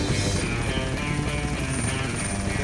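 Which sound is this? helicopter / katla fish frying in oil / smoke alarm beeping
helicopter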